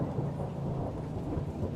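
A steady, heavy low rumble of thunder rolls on continuously, dense and loud throughout, with the wash of rain mixed in.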